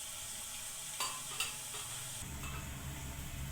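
Chicken with spinach cooks in a pot, giving a soft steady sizzle with a couple of brief stirring clinks and a low rumble rising toward the end, close but quiet.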